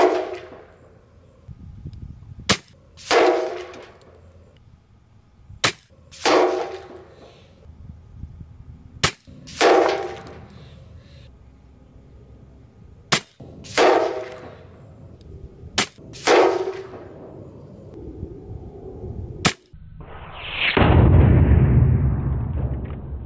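Shots from a Brocock Commander Magnum HP air rifle at a target: seven sharp cracks spaced a few seconds apart, each with a short decaying tail, then a louder broadband burst near the end; no talk.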